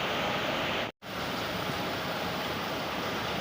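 Overhead water sprinklers rain steadily onto dairy cattle in a shed cooled by seven running fans, giving a dense, continuous hiss that cuts out for a split second near the start before resuming.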